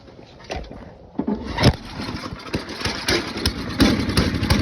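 A salvaged snowblower engine pulled from the trash starts up with choke on, sputtering irregularly then settling into a steady running idle with some uneven bursts, close by, no talk.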